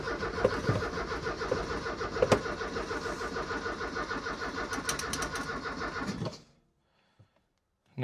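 A Porsche 944 engine cranks continuously as the key is turned, with a steady, rapid starter churn, close and loud, that runs for about six seconds before cutting off into silence.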